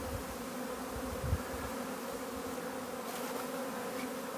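Honey bees hum in a continuous, low drone, a swarm buzzing close by during a heather honey harvest, with no voices, faint but steady throughout.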